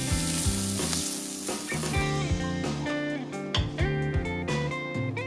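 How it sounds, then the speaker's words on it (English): Seafood for summer yakisoba sizzling loudly in a hot pan, a steady crackling fry with bursts of spattering and a few stirring knocks, close and continuous throughout. "sizzling sound is always a great indicator to check for the proper heat level"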